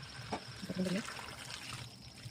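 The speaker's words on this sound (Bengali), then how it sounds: "মাংস কষা কমপ্লিট, জল দেবো।" Water pours into a pan of cooking duck curry, a brief soft trickle and splash that fades into a low background, with faint talk nearby.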